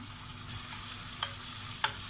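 Mint, coriander and green chillies sautéing in oil for a kodo millet biryani, a soft continuous sizzle with a couple of light utensil taps against the pan.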